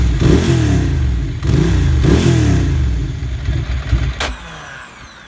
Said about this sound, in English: If I put the choke on, see how loud it gets. And if I rev it for you guys